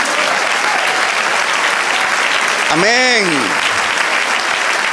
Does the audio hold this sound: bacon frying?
no